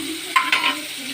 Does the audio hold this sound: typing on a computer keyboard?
no